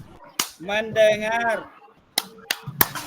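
Sharp hand claps from a clapping ice-breaker game, several single claps spaced apart with a short clustered pair near the end, alternating with a spoken voice.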